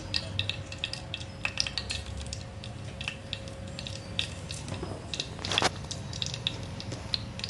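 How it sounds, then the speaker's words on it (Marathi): Mustard seeds dropped into hot oil in a pan, producing a continuous close sizzle with scattered crackles and pops and a brief louder burst near the end. "आता तेल चांगलं गरम झालं का आपण याच्यात घालणार आहोत एक चमचा मोहरी याच्यात घालायची आहे मोहरी"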